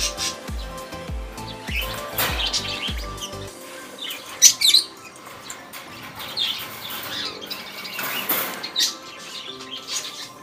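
Pet lovebirds chirping and squawking in short, bright bursts at close range, with occasional wing flutters; a low rhythmic thumping fills the first few seconds.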